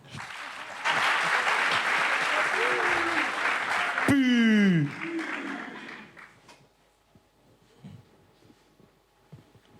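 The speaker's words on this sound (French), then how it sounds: "Applaudissez un peu pour moi" Outdoor event audience applauding at a summer fun day, a dense sustained wash of clapping that fades out after several seconds, with a voice over a sound system cutting in partway.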